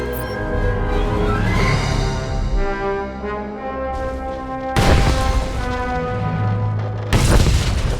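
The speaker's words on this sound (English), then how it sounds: "The charges have detonated." Detonated charges in the Star Wars: The Old Republic game on planet Voss go off in heavy booming blasts, with two sharp loud explosions cutting through a dense, sustained rumbling roar.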